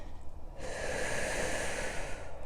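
A single slow, steady in-breath during a seated hamstring stretch in a whole-body flexibility routine, a soft airy hiss lasting about two seconds, close and fairly quiet, with no talking.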